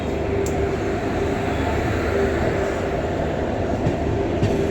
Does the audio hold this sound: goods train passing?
yes